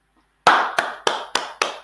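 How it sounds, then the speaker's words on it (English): Five sharp, evenly spaced claps ring out loud and close after a moment of silence, played as a crowd-goes-wild effect on an Afro House radio show. "The crowd goes wild."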